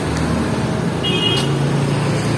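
Road traffic with vehicles passing steadily, a continuous broad roar of engines and tyres nearby, with a brief faint horn toot midway.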